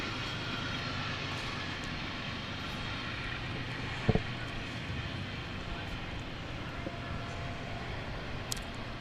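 A long train rolls past on a nearby track in rural Saskatchewan, a steady broad rumble and clatter of wagons holding throughout, with a faint metallic clank or two mid-way.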